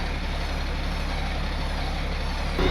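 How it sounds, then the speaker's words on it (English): A truck engine turns over on compression with the key off while the truck is pulled in gear by a wrecker, making a loud, steady, close mechanical rumble with a brief surge at the end. "It's like coming up on compression and then popping past it, and up on compression and popping past it."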